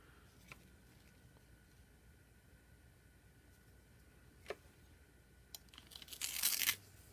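A blade slices through a soft clay slab to cut out box pieces, making faint scraping and tearing sounds with a few small clicks and a louder tearing scrape near the end, no voices.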